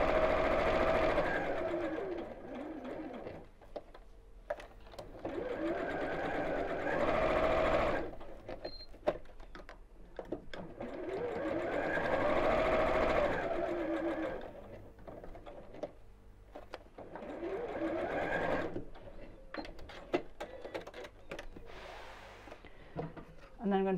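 Sewing machine stitching around the four sides of a pinwheel pin cushion, running in several sustained whirring bursts separated by short pauses, close and clear.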